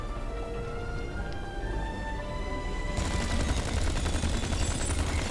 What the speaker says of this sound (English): With a Thompson submachine gun.